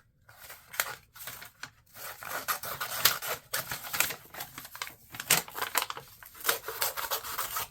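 Scissors snip and rustle through paper in short irregular bursts, cutting a section for an origami mini book, close and crisp with brief pauses between cuts and no speech.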